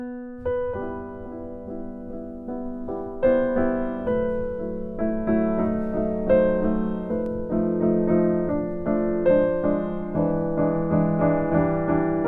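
Solo piano piece played anxiously, with quick, uneven, erratic phrasing and restless chords that grow denser and louder, up close with no talking.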